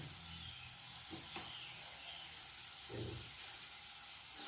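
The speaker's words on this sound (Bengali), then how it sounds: "একটু নেড়ে দিচ্ছি কালো জিরেটা ফুটি যাওয়া অবধি" A soft, steady sizzle of seeds crackling in hot oil, with a couple of faint stirring taps.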